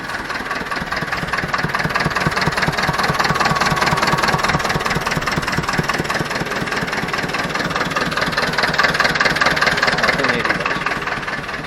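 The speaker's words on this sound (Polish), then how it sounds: "Spuszczamy wodę na odpalonym traktorze" An orchard tractor engine idles steadily and close by while its water is drained, with a rapid, even chugging throb that holds at a constant level throughout.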